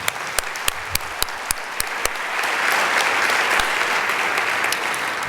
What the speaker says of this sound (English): if you would just do me a favor and clap for them